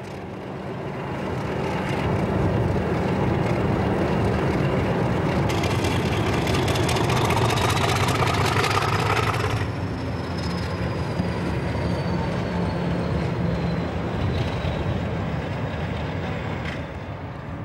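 Class 50 diesel locomotive 50031 Hood at Cardiff Central preparing to collect empty stock: a steady, loud diesel drone and rolling train rumble with a high wheel squeal rising partway through, continuing throughout with no voices.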